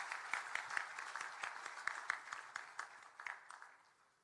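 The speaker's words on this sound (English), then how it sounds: "I wish that the audience gives him a round of applause" Audience applause at a bar association centenary celebration in Nagpur, a thin spattering of separate claps that rises slightly and then fades out over a few seconds, moderately distant with no talking.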